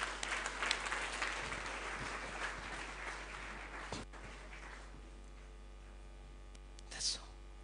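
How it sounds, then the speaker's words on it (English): A church congregation claps together during a communion sermon, a fairly faint burst that fades after a few seconds, followed by quiet room tone and a short final clap. "Clap for Jesus."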